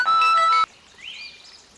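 A short, bright phone ringtone tone sounds loudly for about half a second, then cuts off abruptly, leaving faint background with a soft rising whistle-like tone.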